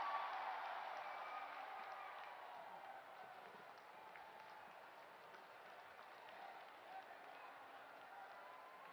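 A large crowd at an outdoor inauguration event in Barki, Uttar Pradesh, applauds to welcome Prime Minister Modi, a distant, muffled wash of clapping that slowly fades, heard through a narrow, thin-sounding broadcast feed.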